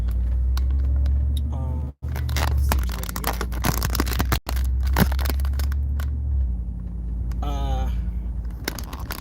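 Steady low rumble of a car interior while driving, with occasional knocks and scrapes near the microphone and brief gaps; someone talks over it.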